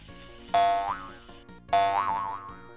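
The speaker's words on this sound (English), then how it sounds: "Spring sound effect." Spring boing sound effect heard twice, each a bright twanging wobble that bends and decays over about a second, close and clear with no voices.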